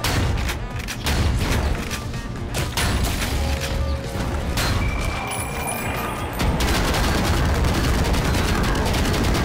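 Gunfire and mechanical weapon sounds from the shooter video game Ion Fury, sustained loud blasts and clatter filling the whole stretch with a dense, continuous barrage and no speech.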